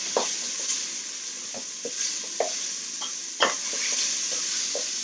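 Onions for potato soup fry with a bright, steady sizzle in a pot while a spoon stirs and taps against the sides in scattered strokes, one knock louder than the rest.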